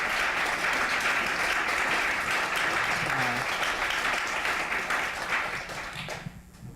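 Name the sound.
audience applauding panelists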